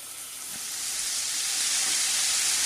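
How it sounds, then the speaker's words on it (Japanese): Onions sizzle steadily in salad oil in a frying pan over low to medium heat, a smooth close hiss that swells slightly and holds, with no talking. "フライパンにサラダ油を入れて、先ほどの玉ねぎを弱火か中火でほぼ3分炒めていきます。"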